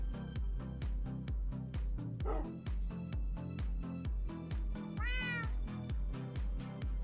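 A cat meows once, clearly and close, over steady rhythmic background music, with a person talking briefly nearby.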